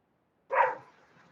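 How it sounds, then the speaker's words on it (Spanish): A small dog gives a single sharp bark picked up by an open microphone during an online class, a short close burst between stretches of near silence. "A ver si el que tiene el perrito ladrando puede cerrar su micrófono"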